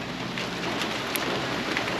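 Steady rain pours outside while work goes on inside a 2024 Chevrolet Silverado 2500 HD, a dense even hiss of drops on surfaces with no talk.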